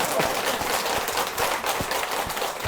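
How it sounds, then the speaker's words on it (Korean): An audience at a Buddhist dharma talk claps in steady, broad applause, a dense wash of many hands at moderate volume with no speech over it. "박수."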